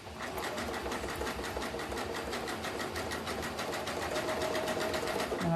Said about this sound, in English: So what I'm gonna do is sew on this side of it and catch that end in there.